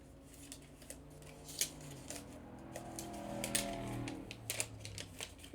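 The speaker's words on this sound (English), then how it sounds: "Oh, the peeling tradition." Protective film being peeled off a new Apple M4 Mac mini, a soft crackling, tearing rustle close by with a few sharp snaps, over a low hum.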